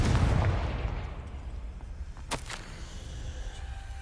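A Confringo blast spell fires in the PC game Hogwarts Legacy, a sharp explosive crack with a brief whooshing burst over a low rumbling game backdrop, no talk.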